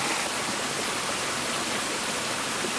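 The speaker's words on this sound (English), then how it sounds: "If you listen to the water, it has its own concert" Steady, dense rush of fresh water flowing through a rainforest gully stream, a continuous close wash of even noise with no breaks or voices.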